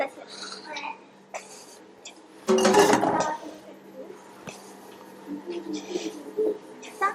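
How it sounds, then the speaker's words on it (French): Dishes, a saucepan and a plate clatter and clink while being cleared, with one loud burst of scraping and knocking midway, amid quieter kitchen handling noises and some talk. "On débarrasse la casserole, l'assiette."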